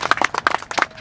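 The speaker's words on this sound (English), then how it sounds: "So we applaud, even though he can't be here, we applaud Lou Landau" An audience gives brief applause at a board and commission service recognition, with several quick bursts of clapping close together.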